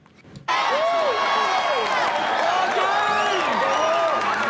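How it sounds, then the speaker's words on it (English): A Philadelphia bar crowd cheers for Rocky, breaking in abruptly after a quiet start and holding as a dense, loud roar of voices, whoops and shouts with rising and falling cries. "in Philly is cheering for their hometown hero"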